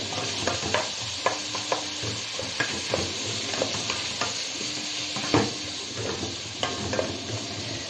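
Onions sprinkled with salt fry in a pot and are stirred by hand, so steady sizzling is broken by repeated sharp scraping clicks of the spoon against the metal.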